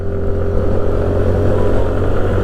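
A 2022 TVS Jupiter 125 scooter's exhaust drones steadily while riding, a low, even engine hum that stays loud and close throughout, with no voices.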